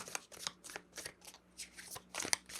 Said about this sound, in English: Let's pull a supporting card